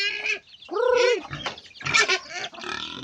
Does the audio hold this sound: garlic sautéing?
no